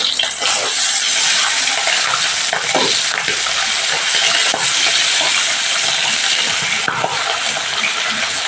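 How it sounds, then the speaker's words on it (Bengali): Pabda fish fry in hot oil for a wedding-style Bengali dish, a loud, steady sizzle and crackle with occasional clinks and scrapes as the pieces are turned in the pan. "এবার পাবদা মাছগুলো আমি একটু উল্টে দিই"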